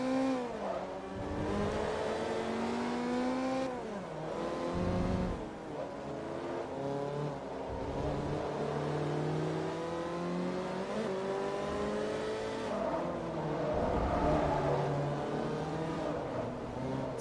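Race cars from Forza Motorsport 3 accelerate steadily in a game, engines rising and falling in repeated revving sweeps as cars jostle in a pack, loud and continuous with no talk.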